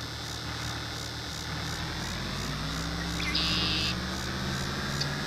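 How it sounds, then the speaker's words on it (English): Ambient critter sounds from a wildlife mod in a farming video game set in rural Nebraska: a faint, steady pulsing insect-like chirr over a low idling truck engine hum, with a brief brighter tone midway. "those bird sounds you hear in the background are from the Critters mod"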